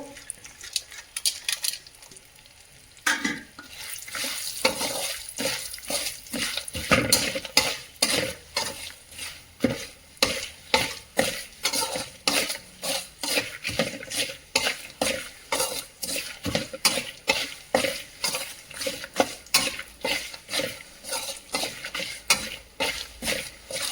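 A spoon scrapes and stirs a tempering of roasted gram, peanuts and dry coconut in a frying pan in a steady repeated rhythm, with light sizzling underneath and no talking.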